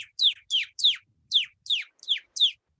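A beatboxer imitates morning birdsong with his mouth: eight quick, bright chirps in an even rhythm, close and clear against silence.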